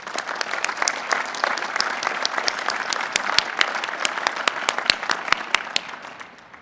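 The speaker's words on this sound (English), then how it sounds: "Let's give them an applause" Sustained applause from a large audience greets the new graduates at a university commencement, dense steady clapping with sharp individual claps standing out, fading slightly near the end.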